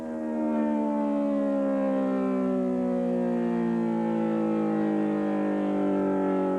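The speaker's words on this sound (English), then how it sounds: "Now, when the siren sounds" A civil defense tornado warning siren wails steadily and loudly for the whole stretch, one long sustained tone that slowly falls in pitch, with no voices over it.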